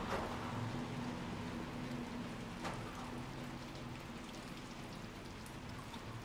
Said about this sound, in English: This downpour is disgusting.